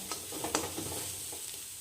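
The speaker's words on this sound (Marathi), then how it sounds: "त्याच तेलामध्ये आणि त्याच कढईमध्ये व्यवस्थित परतून घ्यायचंय।" A ground paste of coriander, coconut, garlic and tamarind is sautéed in a wok in the oil left from frying bitter gourd, over medium heat. It gives a soft, steady sizzle with faint stirring scrapes, quiet and close, with no voices.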